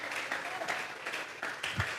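A church congregation offers applause, a fairly faint patter of clapping with uneven bursts and a low thump near the end, coming from a small room rather than a packed hall.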